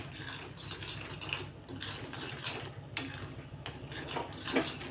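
A spoon scrapes and clinks against a pan while amla chutney is stirred together with ghee, producing soft, irregular metallic scraping strokes throughout, fairly quiet and without talk.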